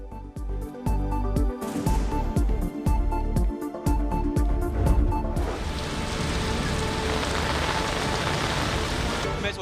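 Heavy rain pours down steadily, a dense continuous hiss that swells and fills the scene, with scattered sharp drips and knocks early on before settling into a constant roar.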